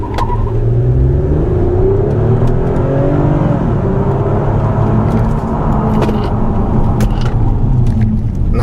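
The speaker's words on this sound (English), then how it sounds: "This V6 is one of the smoothest engines I've ever driven" A 2014 Toyota Avalon's V6 engine pulls hard under acceleration, a steady, full-throated rumble with rising whir heard from inside the car, continuous and loud without pause.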